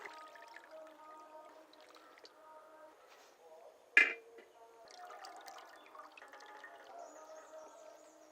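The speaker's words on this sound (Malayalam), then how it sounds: "ഇതൊരു 3 വെള്ളവും കൂടെ ഒന്ന് കഴുകിയെടുക്കണം." Raw beef pieces are washed in water, with soft sloshing and dripping at a quiet level and one sharp splash or clatter partway through.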